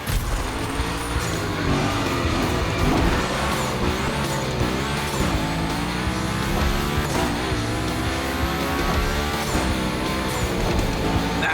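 Car drifting and sliding through a Hoonigan gymkhana course in The Crew Motorfest, with a loud, continuous engine roar and repeated tire squeals over a constant game soundtrack, no talking.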